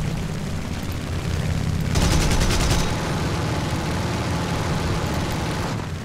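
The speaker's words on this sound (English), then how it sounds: "Machine guns aren't gonna do anything to those." Machine guns rattle in War Thunder, a dense continuous roar of gunfire with one rapid, distinct burst in the middle, loud and close.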